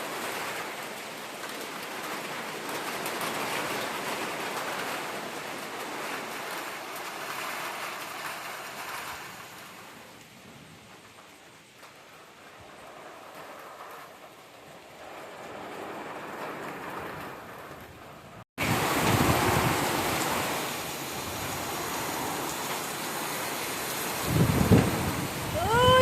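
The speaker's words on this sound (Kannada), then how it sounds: "ಮಧ್ಯಾಹ್ನ ಕರೆಕ್ಟಾಗಿ 1:15 ಈ ಥರ ವಾತಾವರಣ ಆಗಿ ಮಳೆ ಬೀಳ್ತಾ ಉಂಟು." The first rain of the year falls at midday with hail, a steady broadband hiss of rain on surfaces throughout, growing louder after a sudden jump, with brief knocks near the end.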